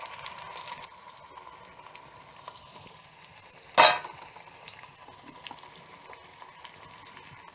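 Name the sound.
dudhi (bottle gourd) bajas frying in oil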